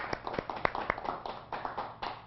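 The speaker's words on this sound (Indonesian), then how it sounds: "mari kita berikan aplaus yang meriah" Audience applause closing a public expose for PT Duta Pertiwi Tbk, a scattered round of sharp claps that comes in uneven bursts and stays fairly quiet and brief, with no talking over it.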